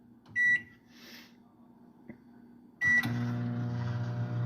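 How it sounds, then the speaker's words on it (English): A microwave oven cooking a potato: two short electronic beeps as buttons are pressed, a click, then the oven starts with a steady humming drone that runs on to the end, no speech. "Depends on every microwave, but for me, a minute 30 is usually pretty good."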